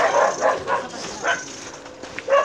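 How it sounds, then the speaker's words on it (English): Dogs behind a gate keep up an intense, aggressive barking, with close, loud barks coming in rapid irregular bursts and some yipping mixed in. "just look at the intensity of the barks"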